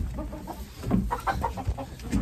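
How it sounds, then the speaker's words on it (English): Chickens on a farm cluck softly and repeatedly, a quiet run of short, uneven calls from the nearby flock. "yeah, and these are all my chickens."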